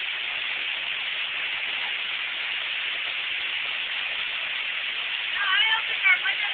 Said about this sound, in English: That rain's cold.